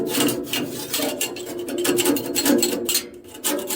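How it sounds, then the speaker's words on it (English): A piece of metal scrapes residue off a saw blade in a rough, rasping series of strokes, close up and steady with no talk. "I'm going to scrape this stuff off this blade"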